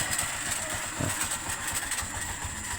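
A Honda TMX125 motorcycle engine runs with an abnormal mechanical noise, a loud, close, steady idle with a rattling, ticking texture and no talk.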